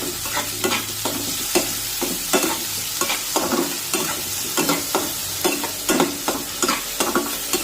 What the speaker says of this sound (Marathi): ते यामध्ये टाकूया आणि हा कांदा गुलाबी रंगावर परतून घेऊया